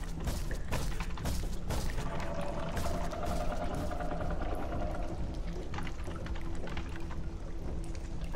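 Water gushes and pours continuously in the Roblox game Doors, a steady, full rushing wash with a few dull thuds mixed in, loud and close throughout.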